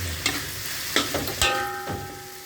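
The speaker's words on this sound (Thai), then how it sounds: "หลังจากนั้นเราก็ใส่ปลาดุกที่เราทอดไว้ครับนี่ครับ ผมก็ไปผัดเข้าไปนะครับ" Fried catfish and kaffir lime leaves are stir-fried in a pan, with a steady sizzle broken by a few sharp scraping strokes of a spatula, close and moderately loud.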